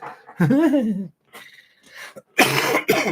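A person coughs several times in close bursts, loud and raspy with short pauses between, the last two harsh coughs clustered together.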